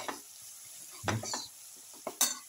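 A bottle gourd casserole gets stirred in a pan, with a few short scraping strokes and a soft sizzle underneath, two clustered stirs near the middle and another pair at the end, close and fairly quiet.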